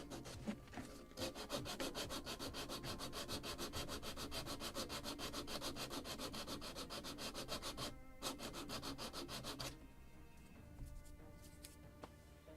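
Sandpaper rubs back and forth on the wooden planking of a model ship, a Model Shipways kit of the 1776 gunboat Philadelphia, in fast, rhythmic, raspy strokes up close, briefly pausing before tapering off, with no talking.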